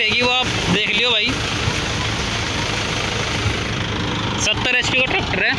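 A Massey Ferguson 2635 4x4 70 HP tractor engine idles with a steady low rumble throughout, while people talk briefly at the start and end.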